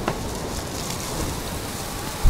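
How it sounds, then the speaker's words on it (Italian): Steady rain falls over the outdoor Porta Portese flea market in Rome, a continuous close hiss of drops spread evenly throughout with no talk, ending in a brief louder knock. "io annuncio che sta ufficialmente piovendo"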